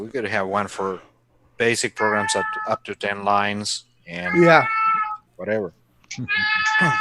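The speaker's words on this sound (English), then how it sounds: "Who the hell's got a cat? That's my cat." A pet cat meows loudly several times close by during a chatty retro computing podcast, its calls interleaved with someone talking.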